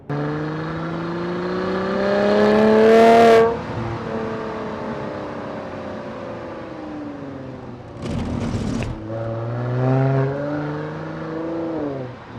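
A 2016 Mercedes-AMG C43 4MATIC engine revs up through the gears under paddle-shifter control from inside the cabin, its pitch climbing, breaking off at each shift and rising again, two shifts with brief bursts of noise between the climbs.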